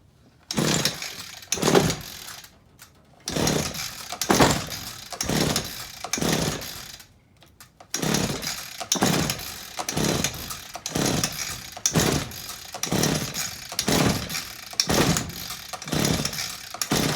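A repaired Echo SRM225 string trimmer with a new carburetor and ignition, its small two-stroke engine repeatedly pull-started in short sputtering bursts, then catching and running with a steady revving buzz close by.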